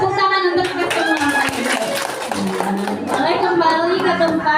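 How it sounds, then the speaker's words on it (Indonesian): Group applause from teachers in a school training session on positive culture, scattered clapping mixed with chatter and voices, moderately loud and irregular rather than a steady wash. "tepuk tangan untuk kita semua"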